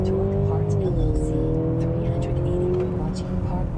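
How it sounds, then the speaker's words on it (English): A 2025 Mercedes-Benz GLC 350e plug-in hybrid SUV accelerating hard from a standstill in sport mode, a loud in-cabin engine drone climbing steadily in pitch, with a gear change partway through. "let's try one more 0 to 60 run here. This time it's in sport."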